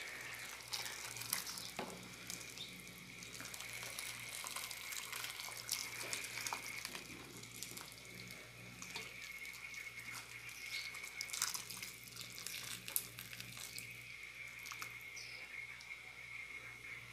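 Hot water runs steadily from a tap over cut meat being rinsed before soaking with lemon, a continuous close hiss and splash throughout with faint background hum.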